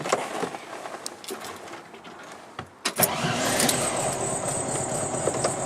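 A 1966 Volkswagen Beetle's air-cooled engine cranks with a brief whir, catches and settles into a steady, fairly loud idle after a short pause, heard up close with faint clicks and handling noises beforehand.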